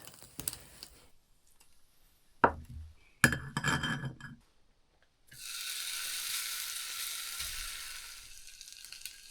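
Bacon, onions and burger meat sizzle in a tiny pan in an alpine hut, a steady hissing fry that settles in after a few sharp clinks and knocks of cookware, with no talking.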